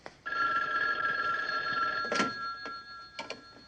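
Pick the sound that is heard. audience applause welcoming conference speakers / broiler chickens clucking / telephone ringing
telephone ringing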